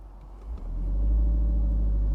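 A Cupra car engine revs up and holds at a capped 1,500 RPM, a loud, close low rumble that swells after half a second and then sustains steadily without climbing further.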